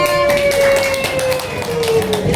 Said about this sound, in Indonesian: Oke, beri tepuk tangan kelompok 3.